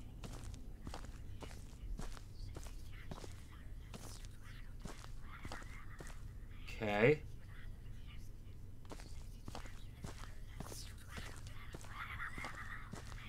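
Steady, evenly paced footsteps tap through a quiet, eerie Paranormal HK video game scene. About two land each second over a low hum, with a brief louder swish near the middle and a murmured word.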